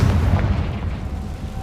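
Confringo spell explosion in the video game Hogwarts Legacy, a deep booming blast that rumbles loudly and fades over about a second and a half, with no talk.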